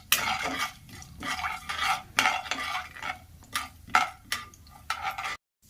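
Urad dal and chana dal frying in hot oil, stirred with a utensil in a pan, giving bursts of sizzling and scraping in uneven rhythm, close up and alone, before a brief silence at the end.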